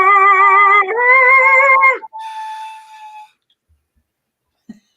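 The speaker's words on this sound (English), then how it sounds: "That's a whistle tone." A human voice hits a very high whistle tone, holding a piercing pitch for about two seconds, then gliding up into a thinner sustained note that fades out, close and loud.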